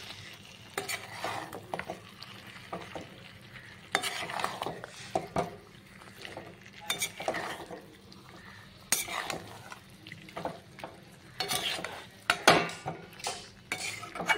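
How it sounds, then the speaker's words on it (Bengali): Cooked chicken meat stirred in a pot for biryani, with repeated scraping and clanking of a metal spoon against the pot over a faint sizzle, in irregular bursts. "তার জন্য এবার একটু ভালো করে নাড়িয়ে চাড়িয়ে দিচ্ছি"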